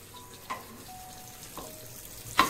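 Eggplant slices fry in a pan with a faint, steady sizzle, broken by a few sharp clinks from stirring or turning and a louder clatter near the end.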